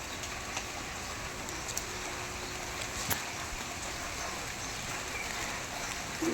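Rain falls steadily on a farm field of ivy gourd plants, a continuous broadband hiss of drops with occasional sharper patters.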